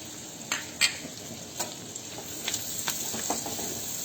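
Chopped onion sautéing in a pan, a steady soft sizzle broken by several sharp crackling pops and spatters.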